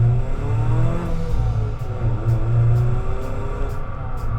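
Mazda MX-5 Miata RF engine revving while driving, a continuous mid-pitched drone with rising and falling tones as the revs change, close and fairly loud throughout.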